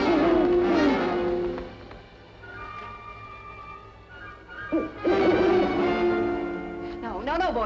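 An owl hooting near a barn, a few sustained tonal hoots separated by pauses, fairly close and clear, with voices talking in between.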